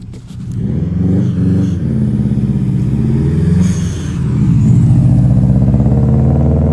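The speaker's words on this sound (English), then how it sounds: "Yep, it's a loud engine sound car." A loud car engine rumbles and revs close by on a street, its heavy low drone swelling and dipping over several seconds with a louder surge near the end.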